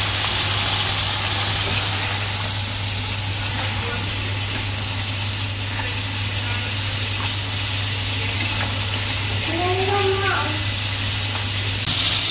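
Frozen French fries fry in oil with a constant broadband hiss over a steady low hum, and a brief voice sounds near the end.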